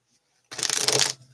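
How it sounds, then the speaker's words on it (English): Playing cards are shuffled in a single brisk, close riffle lasting about half a second, with quiet before and after. "I'm shuffling the shit out of this anyway."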